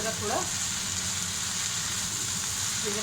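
Okra (bhindi) sizzles steadily in a hot pan, a dense, continuous frying hiss with a faint low hum beneath, loud and close throughout with no talking.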